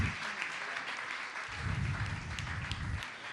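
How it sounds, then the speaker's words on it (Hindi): An audience at a Jain religious gathering applauds trustees being honored, with steady, loud, continuous clapping from a large crowd and a low rumble of movement or voices swelling partway through. "इनकी सम्मान आप लोग तालियां बजाते रहे"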